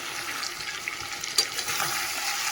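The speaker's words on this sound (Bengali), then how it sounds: "আলুটা দিয়ে দিলাম, আলুটা দিয়ে একটু কষিয়ে নিই" Potatoes sautéing in hot oil in a home kitchen pan produce a dense, steady hiss and sizzle with occasional louder spits, close and continuous with no talking.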